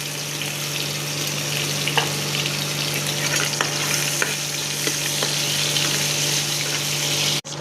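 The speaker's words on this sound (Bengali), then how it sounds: "লাল লাল ভাজা ভাজা হচ্ছে" Chopped garlic and onion sizzle steadily in hot oil with whole cardamom and cloves, a continuous close frying hiss with a few soft clicks of stirring and no talk.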